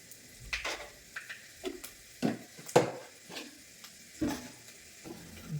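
Whole dried red chillies and whole garam masala tempering in hot oil for a Bengali fish-head moong dal, a soft crackle under a handful of sharp utensil clinks and stirs at close range.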